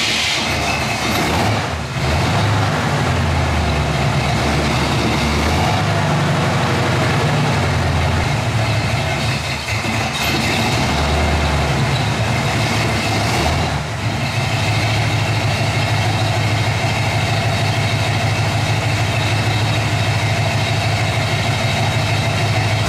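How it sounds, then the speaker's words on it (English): A Jeep engine idles steadily, a loud, continuous rumble with a constant drone that holds for the whole stretch without any talking. "We're going to start up the Jeep. It's gonna take a couple minutes for it to warm up."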